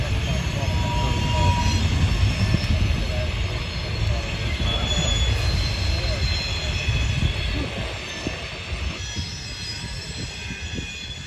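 A northbound freight train passes on the Columbus subdivision rails at Fostoria, a steady loud rumble of wheels and cars with high squealing from the wheels throughout.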